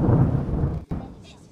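Low rumbling thunder rolls with a steady wash of rain, cutting out abruptly for an instant before the storm noise resumes more softly.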